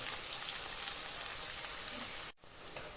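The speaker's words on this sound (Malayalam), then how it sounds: "ഉപ്പിട സവോള ഒന്ന് നന്നായിട്ട് വഴന്ന് കിട്ടാനായിട്ടാണ് സബോള നന്നായിട്ട് വഴന്ന് വരുന്ന വരെ ഇറക്കുക" Onion sautéing in a pan, a steady, close sizzling hiss that runs continuously, briefly dipping near the end before resuming.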